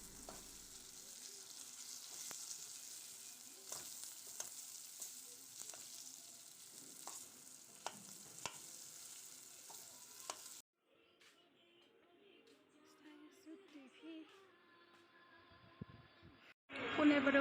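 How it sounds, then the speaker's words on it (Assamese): Broken-up potatoes fry in a pan for a catfish curry, giving a steady quiet sizzle with light spatula clicks, then a softer, more muffled cooking sound toward the end. "আলুখিনি ভালদৰে ভাজিব লাগিব।"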